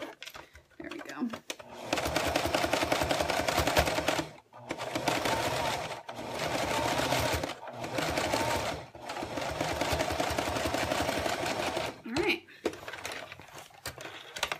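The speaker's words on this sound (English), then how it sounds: "Now we've top stitched it in place." A sewing machine top stitching a zipper in place, running in long steady buzzing stretches broken by short stops, close and fairly loud, with a person talking between and over the runs.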